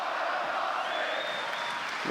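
A crowd applauds and cheers at the Fox Theatre ahead of UFC 290, a dense, steady roar of clapping and voices that holds for about two seconds at an even level.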